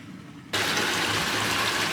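Storm water from heavy rain and flooding in Portugal suddenly gushes from a drain, a loud, steady rushing pour close by that starts abruptly and continues without talk.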